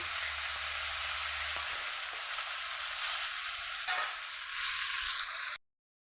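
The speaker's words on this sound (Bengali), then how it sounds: "তেলটা গরম হয়ে গেছে, তো মাছ দিয়ে দেবো তেলের ভিতরে।" Fish frying in hot oil in a pan, a loud, dense, continuous sizzle close by that cuts off abruptly near the end, with no speech.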